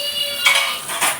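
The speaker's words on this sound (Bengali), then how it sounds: "মা দিয়ে গেছে বাসন মাজতে।" Metal pots and dishes being gathered for washing give two brief, bright clinks a half-second apart against a quiet background.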